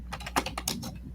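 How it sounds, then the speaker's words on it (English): Typing on a computer keyboard, a quick run of several close key clicks in an uneven rhythm over a low steady hum. "Who's typing?"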